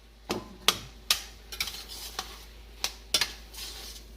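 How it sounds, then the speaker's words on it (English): Vegetables and pre-seasoned vegan meat sautéed in margarine in a pan, with sharp clinks and scrapes of a utensil against the pan at irregular intervals over a soft sizzle. "Saute this up."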